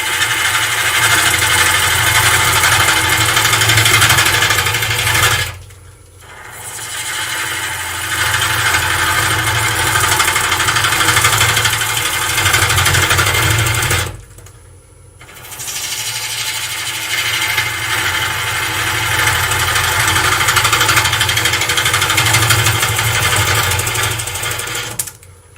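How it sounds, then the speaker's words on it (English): A wood lathe spins while a long-grind gouge rips away wood, a loud continuous whirring and scraping roar that cuts out twice in brief pauses before resuming at full force. "I'm using the full force of the long grind here just to rip wood away."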